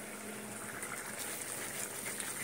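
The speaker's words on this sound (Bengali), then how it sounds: "দেখো এখানে আমি ঝোলটাকে বসিয়ে দিয়ে গেছিলাম, ঝোলটা ফুটে উঠেছে" A pot of curry gravy bubbles at a steady simmer, a soft continuous burble of popping bubbles and liquid churning, quiet and close with no talking.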